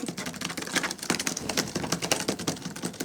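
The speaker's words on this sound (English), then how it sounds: "Typing right along." Typing on a Cherry DW 9100 Slim keyboard, a steady run of quick, close keystroke clicks with a few heavier taps, alone with no voice.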